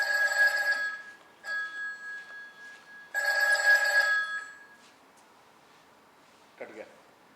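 A telephone rings late at night in two clear bursts of bright electronic trilling separated by a pause, fairly close and clean, followed by a faint brief clatter.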